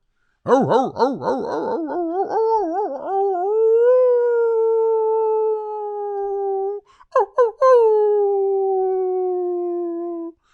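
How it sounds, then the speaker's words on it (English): Dogs howl in a long, wavering, drawn-out cry that settles into a steady sustained tone, then break off briefly before a second howl that glides slowly down and fades, loud and close. "Put the dogs up."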